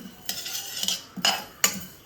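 Fenugreek seeds dry-roasting and being stirred in a hot kadhai for mango pickle spice, with a few sharp scraping clinks of a metal spoon against the pan at irregular intervals over a faint background.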